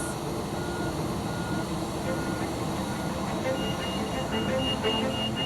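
An aircraft pushback tug at Heathrow reverses with a steady engine drone, and a rapid train of reversing beeps comes in partway through, fairly close.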